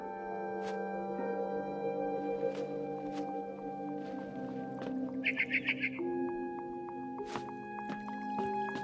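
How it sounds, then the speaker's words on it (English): A barn swallow chirps in the video game What Remains of Edith Finch, a short burst of rapid bright twitters over a sustained ambient game soundscape with occasional drips and clicks. "It was a barn swallow going back to her nest."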